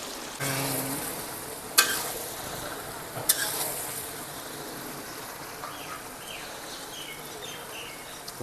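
Chicken for a spicy chicken pickle fries and gets stirred in a pan, a steady close sizzle with two sharp metallic scrapes early and softer stirring afterward.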